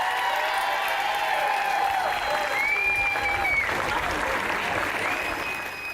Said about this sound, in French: on peut leur donner une bonne main d'applaudissement